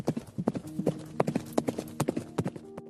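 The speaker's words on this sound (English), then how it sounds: "Soon, the sound of 40 horses faded beyond the hills." Rapid, rhythmic hoofbeats of forty horses clattering close by, a steady clip-clop pattern that thins toward the end as they fade beyond the hills.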